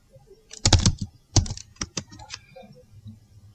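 Typing a terminal command on a computer keyboard: two quick bursts of close, crisp key clicks followed by several scattered single taps, then a quieter tail of light keystrokes, with no talking.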